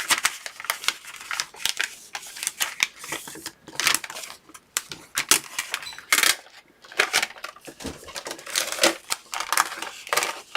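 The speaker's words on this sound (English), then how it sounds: "let's go ahead and peel our" Backing being peeled off a self-laminating sheet for a notebook folio cover, a run of crisp crinkling, tearing and plastic crackling bursts up close with brief pauses between pulls.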